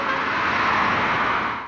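Street traffic noise: a steady, broad roadway hiss and rumble of passing cars, fairly loud and continuous, easing off slightly at the very end.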